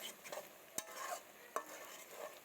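Cardamom, cinnamon and bay leaf crackle softly in hot oil while being stirred, a faint close sizzle marked by two sharp scrapes of the spoon.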